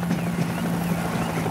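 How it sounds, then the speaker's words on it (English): A helicopter in the video game World War Z Aftermath gives off a steady rotor drone with a low rhythmic thrum, close and continuous. "You see that? Another chopper!"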